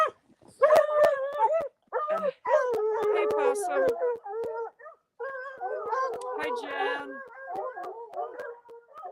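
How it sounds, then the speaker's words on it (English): Dogs harassing a horse outdoors in bitter cold, giving close, excited yips, whimpers and drawn-out howls in uneven bursts, with a person talking briefly. "the dogs are so annoying. That's why they get kicked, because they're harassing the horse right now."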